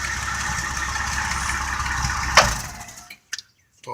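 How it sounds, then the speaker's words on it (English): A retrofitted straight-six engine idles steadily with a vacuum hose standing in for its coil wire, a loud even drone with a faint knock that runs for about three seconds, then cuts off abruptly, followed by a couple of brief clunks. "Now that's running with my regular old coil wire the way it's supposed to."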